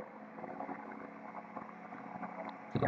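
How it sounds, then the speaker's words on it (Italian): Engine of a Eurofox 220 light aircraft throttling up, a steady droning hum with rough pulsing texture that holds fairly even and quiet throughout, ending with a brief louder burst. "Allora, tiriamo su motore."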